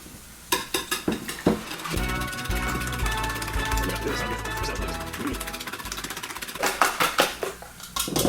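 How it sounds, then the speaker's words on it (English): Eggs whisked in a bowl for Tex-Mex scrambled egg tacos, rapid metallic tapping bursts at the start and end around a stretch of steady low sizzling and someone talking, close and moderately loud. "let's whisk up the eggs"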